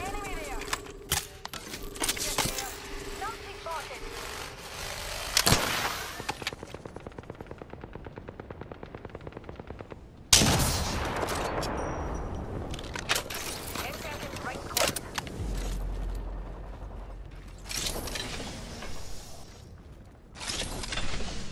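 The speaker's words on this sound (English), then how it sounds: "Listen up, I'm getting shot at." Video game gunfire crackles near the ring late in a match, with rapid bursts of automatic fire and sharp single shots over about twenty seconds, mixed with game effects while a player talks.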